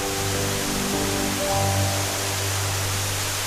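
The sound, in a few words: Ein waterfall on the Ion River in Galilee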